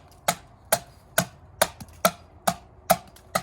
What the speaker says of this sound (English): once you get in your rhythm, you're really not swinging the axe that hard